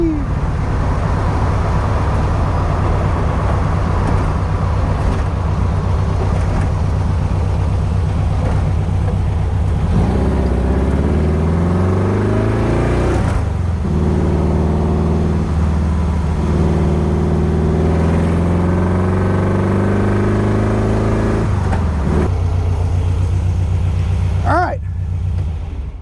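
A 1964 VW Ghia Outlaw on a short test drive, its engine humming steadily and shifting pitch as it accelerates and changes gear, loud and close throughout with road noise, with a person talking over it at times.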